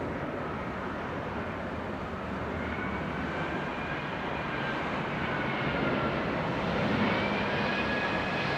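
An airliner arriving at London Heathrow in the early morning rumbles with a broad, steady jet roar and a thin rising whine, swelling slightly louder toward the end.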